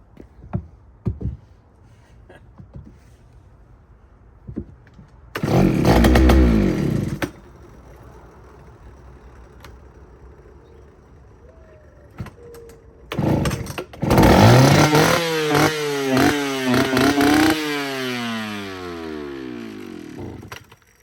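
A Poulan chainsaw with no primer bulb, set on choke, is pull-started. Several cranking pulls give short engine bursts, then it catches and runs loud and rough with rising and falling revs.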